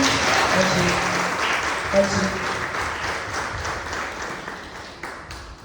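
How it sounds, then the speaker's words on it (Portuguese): A church congregation at a morning service applauds, a broad, even wash of clapping that slowly fades, with a voice briefly speaking over it. "Vamos aplaudir pela participação dele?"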